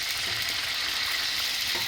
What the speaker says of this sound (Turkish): şöyle karıştıra karıştıra kızartayım.